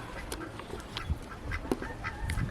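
Free-range ducks, including a paired-off drake, quack on a farm near their nesting area in a scattered series of short, nasal calls at moderate distance. The calls are fairly soft over outdoor background noise, with no speech.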